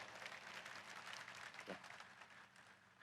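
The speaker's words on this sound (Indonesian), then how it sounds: "kita pantas beri aplaus yang meriah untuk GM Indonesia Pak MK Wong" Audience applause at an Indonesian team motivational event, a steady wash of clapping from a crowd that holds fairly even for about three seconds before easing slightly.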